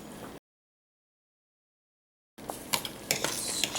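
Utensil scraping and stirring food in a hot pan, with brief clinks and a light sizzle, heard briefly after a gap of silence.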